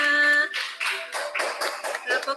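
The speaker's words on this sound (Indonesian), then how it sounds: "Tepuk tangan untuk kamu semua." Schoolchildren in a classroom clap together for the top three finishers of a class game, short bursts of near applause coming in uneven waves after a held tone fades out.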